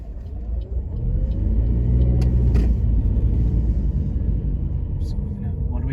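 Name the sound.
car pulling out and driving off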